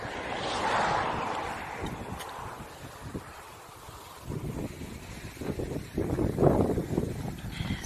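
Wind gusting across an open field, a steady broadband rush buffeting the microphone, swelling near the start and again toward the end.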